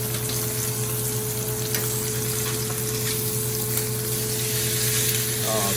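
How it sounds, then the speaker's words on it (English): Wagyu ribeye steaks sizzle on a grill with a loud, continuous crackling hiss and a steady low hum underneath, lasting the whole stretch. "I'm going to turn these steaks so you get some nice grill marks."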